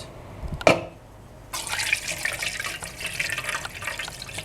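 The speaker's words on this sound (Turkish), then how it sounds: "Şimdi süzüyoruz." Fresh mint lemonade is strained through a strainer, a steady splashing pour of liquid that starts after a brief clink and runs on evenly, close and moderately loud, with no voices.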